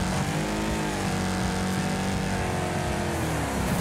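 A race car engine roars without a break in a Wreckfest demolition race, loud and close, its steady revving drone joined by gritty road and body noise.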